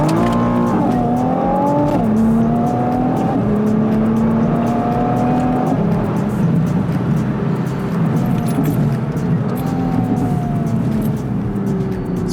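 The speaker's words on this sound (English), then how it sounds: "you got your flappy paddles here, so you can bash it back a few gears and do dumb things like this." A 2025 Nissan Skyline GT-R T-Spec revs and blips through paddle-shifted downshifts, engine pitch jumping in several steps then settling into a steady drone, heard loud and close from inside the car without talk.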